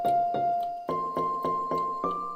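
EQ'd taiko drum sample in a music production track, shaped toward a bright hammer-like click, struck in a regular series of sharp, close hits with short decays over a sustained pitched tone that steps upward.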